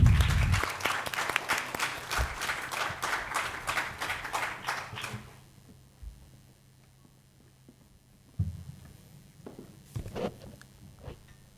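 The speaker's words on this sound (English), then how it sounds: "Let us welcome Sir with a huge round of applause" An audience welcomes a conference speaker with a burst of applause that builds for several seconds and then dies out. Scattered thumps and shuffling sounds follow in a quiet room.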